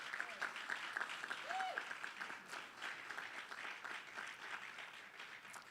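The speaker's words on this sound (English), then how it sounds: "Please give them a round of applause." An audience at a live announcement event breaks into sustained applause, a dense, fairly distant wash of clapping that holds steady throughout, with faint voices mixed in.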